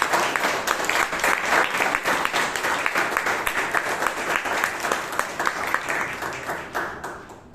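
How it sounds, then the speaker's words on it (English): An audience at a Toastmasters meeting in Bangalore gives a sustained round of clapping, dense and close, gradually tapering off at the end. "Let's give the team, the ExCom team, especially our Youth Education, a round of applause for us."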